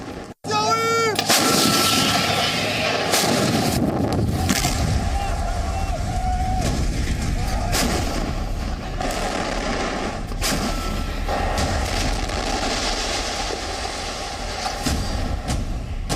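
Heavy artillery fire and gunfire in Gaza during the Israel–Hamas war, a loud, dense roar of blasts and shots that runs unbroken after a brief opening, with a voice speaking over it.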